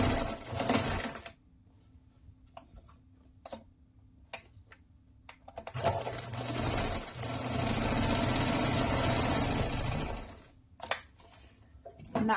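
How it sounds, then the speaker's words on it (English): A sewing machine stitches around the edge of a fabric water bottle sling, giving short bursts and then a longer steady, fairly loud run. Quiet handling taps and pauses come in between. "right at the edge and just stitch around, making sure my strap is out of the way"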